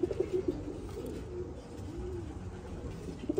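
Pigeons coo in soft, repeated low throaty calls against a steady murmur of background noise, likely from a loft of racing or fancy pigeons.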